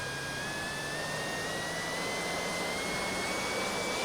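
A simulated aircraft in the RealFlight 7.5 flight simulator game powers up, its engine a steady, loud jet-like roar with a whine that climbs slowly in pitch, heard alone.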